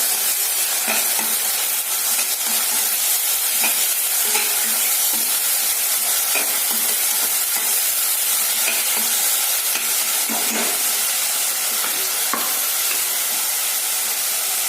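Spices fry in a pan for a goat leg curry, a steady close sizzle running the whole time with occasional stirring scrapes and ticks on top, no voices.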